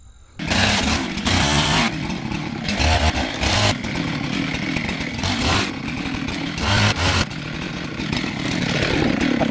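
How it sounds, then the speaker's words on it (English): A Husqvarna chainsaw cuts into a huge fallen tree lying across a creek, close and loud, running steadily for the whole stretch with brief throttle surges as it trims the trunk. "So I'll trim up a little more on this side"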